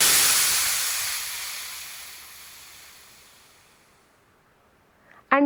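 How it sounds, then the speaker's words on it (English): A steam locomotive pulling slowly into a station lets out a loud broadband hiss that gradually fades over several seconds, ending with a short burst of sound. "the engine hissing"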